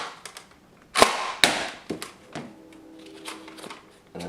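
A Nerf N-Strike Thunderblast blaster fires a foam missile, giving two sharp, loud pops about half a second apart followed by softer rattling and clicking handling noises.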